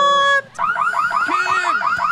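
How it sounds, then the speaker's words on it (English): Burglar alarm going off in The Sims video game: a steady electronic tone, then a loud, rapid warbling pulse repeating over and over, alone and close. "Oh, the alarm got triggered."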